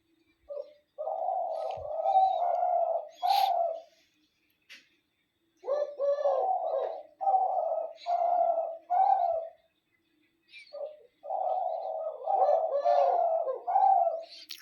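Pigeons calling and cooing at dawn, including a group breaking into calls together: repeated close, loud bursts of low rolling coos in phrases separated by short silences, with no other sounds.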